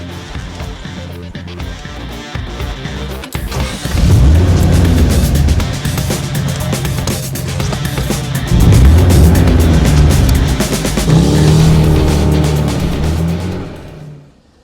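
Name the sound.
1959 Chrysler Windsor engine driving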